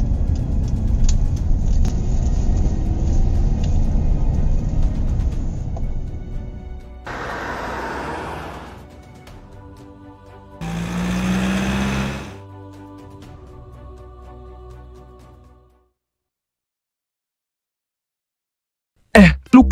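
A car in Sakura School Simulator rumbles at speed with a loud, steady engine roar that fades and surges in two passes, then drops to silence before a brief final burst.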